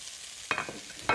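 Noodles stir-fried in a little oil in a wok for prawn chow mein, with two short bursts of scraping, sizzling stirring breaking up a quiet hiss; near and moderately loud, no talk.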